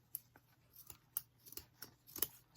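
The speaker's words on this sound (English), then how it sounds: "So let me cut a lot of that off." Short, crisp snips of scissors trimming paper come in an irregular series of quick cuts, close up and fairly quiet, with no voices.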